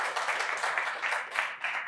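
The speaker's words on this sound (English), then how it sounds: "Can we give Priest Robin a round of applause?" A live audience at a storytelling event claps in a steady round of applause, a dense crackle of many hands that holds at an even level with small swells throughout.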